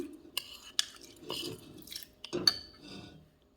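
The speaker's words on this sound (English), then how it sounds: "Now we're going to put it in the pot." Sweet rice, rinsed, is tipped into a cooking pot, giving a few short clattering knocks and a soft pouring rush against metal, close and fairly quiet, with no talking.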